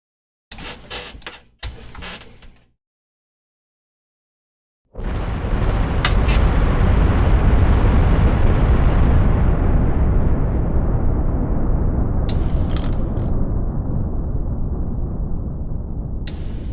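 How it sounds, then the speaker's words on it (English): Strategic bomber striking a target in the strategy game Superpower 3: a couple of short bursts, a pause, then a loud sustained roaring rumble of explosions lasting over ten seconds with sharp cracks on top. "the strategic bomber will move in and it'll hit its target"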